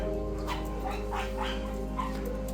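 A dog in a mountain village in the Philippines gives several short barks and yips at moderate distance over a constant low hum.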